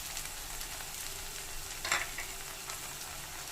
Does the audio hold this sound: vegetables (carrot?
yes